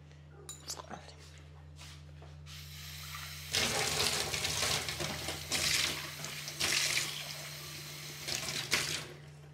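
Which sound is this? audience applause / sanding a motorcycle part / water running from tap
water running from tap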